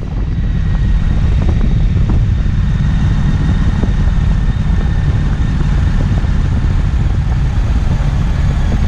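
A Triumph Street Twin motorcycle engine climbing a hill in first gear on Honister Pass in the Lake District, a steady, loud, close rumble that holds continuously with no pause.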